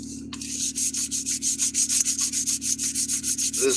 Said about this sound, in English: This is 100 grit sandpaper, so it's not even great sandpaper.